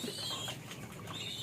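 Soft cooing and chirping of birds in a breeding coop, close by and continuous, with no talking.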